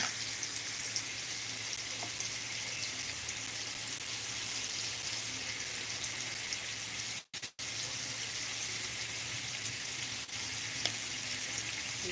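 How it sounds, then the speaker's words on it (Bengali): Potatoes fry in a pan with salt and turmeric added, giving a steady, close sizzle that runs throughout with only a brief break partway through. "তো এবার এটার সাথে ফ্রাই করে নিচ্ছি আমি।"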